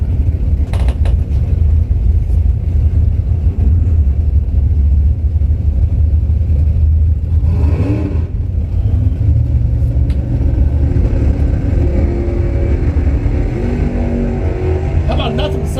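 Drag racing cars, a T-top Camaro among them, rumble loudly at a Labor Day bracket event, with a steady low engine roar and a rising surge as they launch off the starting line while an announcer talks over the noise.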